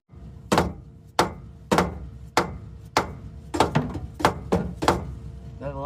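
A hammer strikes a Ford 8.8 rear differential cover in about ten sharp, close metallic blows at an uneven pace, with short rings after each hit.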